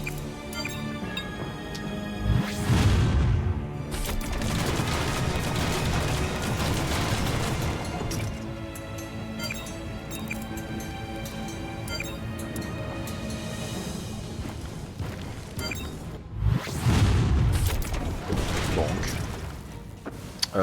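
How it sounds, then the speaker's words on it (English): Shotgun blasts in the video game Front Mission 3 Remake, two heavy booming bursts several seconds apart over continuous game music and battle noise. "I'll just stay here and shotgun this guy then."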